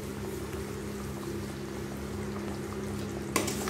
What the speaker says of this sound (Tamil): இப்போ இது நல்லா கொதி வந்ததுன்னா நம்மளுக்கு கிரேவி ரெடி ஆயிருங்க